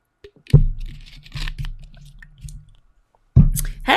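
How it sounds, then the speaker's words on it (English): A person sipping water up close: a few short wet slurps and swallowing clicks in bursts, a pause, then another sip, with no talk. "Let me take a sip of water."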